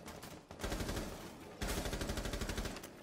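Doc's stim pistol in Rainbow Six Siege firing healing shots at a teammate during a ranked match: rapid, evenly spaced shots in two sustained bursts, loud and close, with no talk over them.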